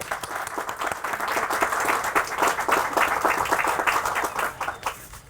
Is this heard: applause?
yes